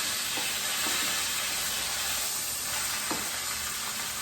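A pot roast sears in an Instant Pot with a steady, loud sizzle and hiss, joined by a few faint clinks near the pot.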